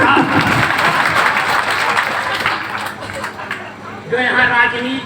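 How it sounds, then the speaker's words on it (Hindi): Audience clapping fills a hall at an event, dense and loud throughout, with crowd murmur underneath and a fresh swell of applause near the end. "ताली बजाइए, अपना काम लगाता हूँ"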